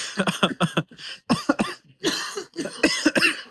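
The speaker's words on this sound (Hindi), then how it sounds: "ठंड से खांसी हो गई" A person with a cold coughs repeatedly in close, harsh bursts, a few quick coughs at a time with short pauses between them.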